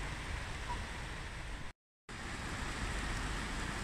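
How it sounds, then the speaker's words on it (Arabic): Heavy rain pouring near mountain waterfalls by a bridge, a dense, steady broadband hiss, loud and close, broken by a brief silent gap midway. "أمطار غزيرة الآن مع هالشلالات"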